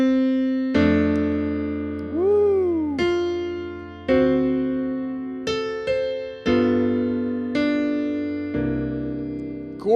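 Solo piano plays a melody over left-hand chord shells, with about eight sustained chords struck every second or so, one rolled and gliding upward near the start, each decaying before the next, alone and close.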